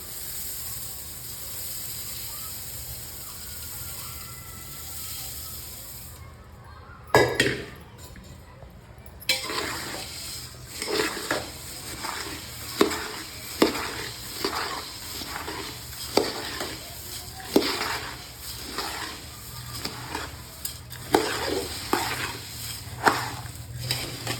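Kolhapuri puffed rice (murmure) tips into a pan with a rustling rush, then a spatula stirs it in a steady rhythm of crisp scrapes and light clinks under a faint hiss.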